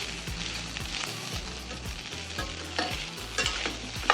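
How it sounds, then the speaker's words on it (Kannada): Rice with salt is sautéed and fried in a pan, giving a steady sizzle under repeated rhythmic scrapes and knocks of a spatula stirring against the pan, close and alone. "ಇದನ್ನು ನೀಟಾಗಿ ಸಾಟೆ ಮಾಡಿ ಫ್ರೈ ಮಾಡ್ಕೊಳ್ಳಿ."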